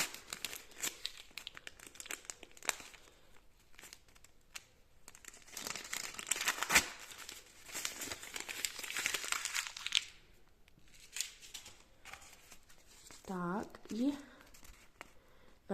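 A paper packet crinkles and rustles close by in repeated bursts, with a person talking throughout.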